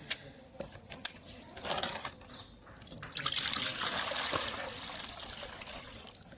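Water is poured into a bowl for birds, a close trickling and splashing stream with a few clicks and knocks, swelling into a steadier pour in the second half.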